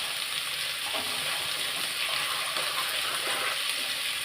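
Water gushing into a pan of sizzling frying potatoes, a steady loud rush and hiss that stays even throughout, heard close up with no voices.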